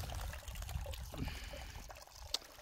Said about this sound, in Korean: 자, 돌물이 졸졸 흘러내려오고 있습니다.